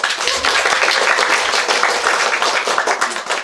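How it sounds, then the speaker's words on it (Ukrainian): An audience applauds after a song, a dense, even patter of many hands clapping continuously throughout at close range. "Аплодисменти"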